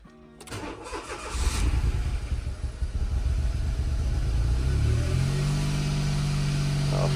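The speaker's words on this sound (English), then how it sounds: "But first you need to start the car." A Smart Roadster 452 car engine cranks briefly, then catches and settles into a steady, low running idle, with nothing else heard.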